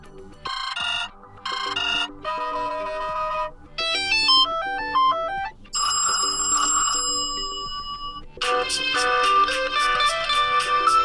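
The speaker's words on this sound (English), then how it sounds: "here you have phone ringtone. Here there are several ringtones here." Several CUBOT X30 phone ringtones play one after another: bright synthetic melodies, rising arpeggios, and a rapid repeating chime in the final stretch. Each is a short loud sample with brief gaps between them.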